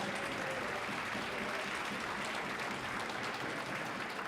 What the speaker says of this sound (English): please give both these young fighters a massive round of applause